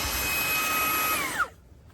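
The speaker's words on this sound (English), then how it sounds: "So I'm quite happy with this little vacuum." A Fanttik Slim V8 Apex cordless handheld car vacuum whines steadily up close, then switches off and its motor pitch quickly falls away into quiet.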